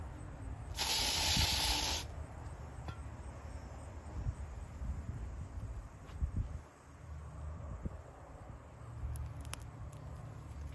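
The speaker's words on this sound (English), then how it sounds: "I've been using this a lot lately, this flying insect spray." A can of flying insect spray lets out one close, steady hiss lasting about a second, then cuts off, leaving quiet outdoor ambience with faint insect chirping and small knocks.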